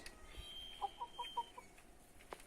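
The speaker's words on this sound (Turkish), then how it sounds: "Tavukçuklar." A few soft, quick clucks from a chicken in a short rhythmic run, faint and close-ish against quiet background noise.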